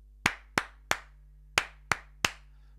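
Crisp hand claps in a rhythm, three evenly spaced claps, a pause, then three more, close and sharp over a low steady hum.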